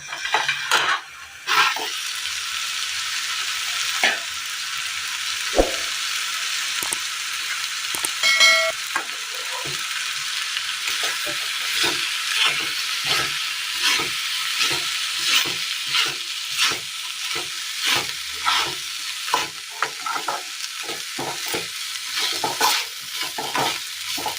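Food stirred and fried in a pan for a Kerala coconut dish, a steady sizzle under repeated rhythmic scraping strokes of a spoon, close and continuous.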